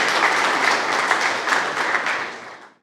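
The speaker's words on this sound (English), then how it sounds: "Why don't we all just give ourselves a big round of applause" A large indoor audience at an evening fuel launch celebration claps in sustained, dense applause that stays loud throughout and then cuts off abruptly.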